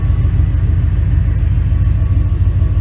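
A Ford E350 Super Duty 5.4L V8 with a budget two-chamber race muffler and downpipe idles loud and close, a deep, steady, throbbing exhaust rumble with an even pulsing beat and no voices.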